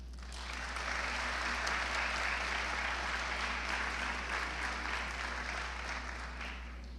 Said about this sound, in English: Graduates, please take a moment now to return that applause as a sign of your appreciation.